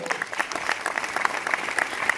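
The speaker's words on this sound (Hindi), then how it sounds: "तालियां कमजोर है आपकी" An audience at a leadership training program gives a brief burst of applause, quick scattered claps filling about two seconds at moderate loudness.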